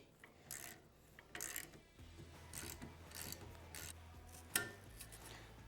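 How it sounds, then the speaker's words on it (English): Tusk spring compressors winding down on a WP XACT motorcycle rear shock spring, giving repeated close ratcheting clicks and metallic scraping in short bursts, with a steady low hum beneath and one sharper clank near the end. "I'm just going to use a couple of Tusk spring compressors"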